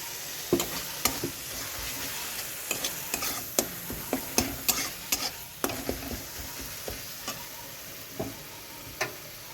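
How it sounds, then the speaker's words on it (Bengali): Masala sautéing in released oil with soaked kasuri methi gives a soft sizzle under repeated sharp scrapes and taps of a spatula in an irregular rhythm. "মশলাটা কষতে থাকবো। তেলটা ছেড়ে দিয়েছে, এবার ভিজিয়ে রাখা কাস্তুরি মেথিটা দিয়ে দেবো।"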